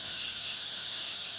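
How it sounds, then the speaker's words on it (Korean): Many cicadas singing in chorus along a countryside road, a dense, continuous high-pitched buzzing drone that stays loud and even throughout, with no voices. "이 수많은 매미들이 같이 노래를 부르니까"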